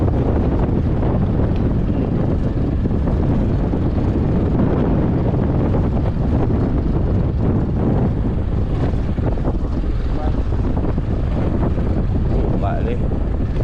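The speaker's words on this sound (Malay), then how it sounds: "angin kuat" Strong wind batters a squid-jigging fishing boat at sea off Terengganu at night, a heavy, continuous roar of gusts buffeting the microphone over rushing water, with a few faint voices in the background.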